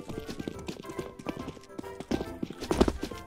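Horse hooves clip-clopping in CS:GO, a quick run of hoofbeats drawing closer behind the player, with a brief whinny and mixed game noise, while the player talks over it.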